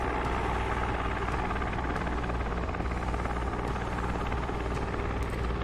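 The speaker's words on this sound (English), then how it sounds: "Looks like my helicopter is actually still trying to fly around." A Guimbal Cabri helicopter flies in Microsoft Flight Simulator, its rotor and engine producing a steady, loud, continuous drone with a rhythmic blade chop, unchanging in level and alone without talk.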